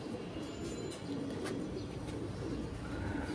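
A small pigeon cooing close by, soft repeated throaty coos over a low, constant background rumble, with no one talking.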